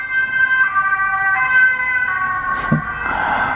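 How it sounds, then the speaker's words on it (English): An ambulance siren wails in steady sustained tones from a scene in the 2023 film Eileen, holding loud and close throughout with a brief rumble of road traffic as the emergency vehicle passes. "an ambulance that just went by with a siren running"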